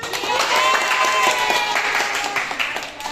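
A small group claps hands together in a nursing therapy group session, a dense patter of claps mixed with voices and chatter throughout.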